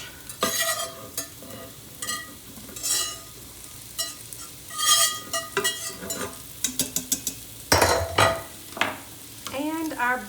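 Butternut squash cubes and cooked bacon stirred through a roux in a soup pot: soft sizzling under repeated close scrapes and clinks of a spoon against the pot, in uneven bursts.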